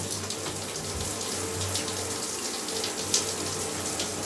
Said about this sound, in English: Put your shower on, and Bob's your uncle.